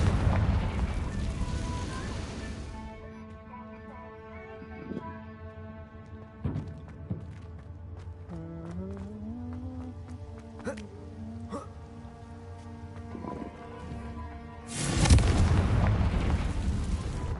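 Confringo explosion spell in Hogwarts Legacy, a loud booming blast at the start and another near the end, with tonal game music and effects in between.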